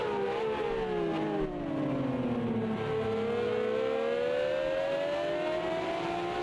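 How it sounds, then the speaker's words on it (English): Ferrari 333SP race car engines at Road America give off a loud, high-pitched roar that rises and falls in pitch, sweeping down and then climbing again as the cars battle past and fade into the distance. "It's also great to hear these engine sounds just roar into the distance. High-pitched engine sounds battling across Road America"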